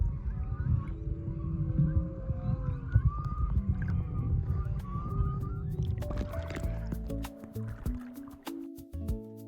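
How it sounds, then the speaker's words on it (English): Whale song heard underwater off Maui, wavering tonal moans and whistles drifting at a distance beneath sloshing, bubbling water noise near the listener. "we dip our heads under the water and we can still hear whales singing just like day one."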